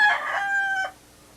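A single rooster crows once, close and loud, a bright held call lasting under a second before dropping to quiet room tone.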